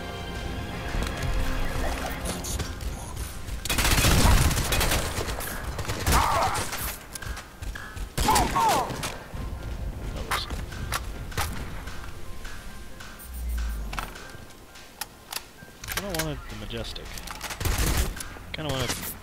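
Gunfire in the video game Crysis 2, with repeated bursts of shots and explosions among other game noises as a player talks over the action.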